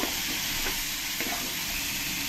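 Masala frying with tomato paste in a pan while a cook stirs and scrapes it, for a pointed gourd and poppy seed dish; a steady close sizzle runs throughout, with a few faint scraping strokes.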